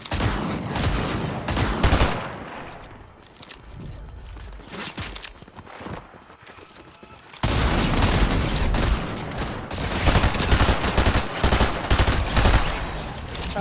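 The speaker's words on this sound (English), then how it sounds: "we're getting sniped" Sniper and rifle gunfire in a Fortnite Zero Build ranked match, repeated sharp shots and bursts, close and loud, thinning out midway before a dense, heavy volley resumes, with footsteps in between.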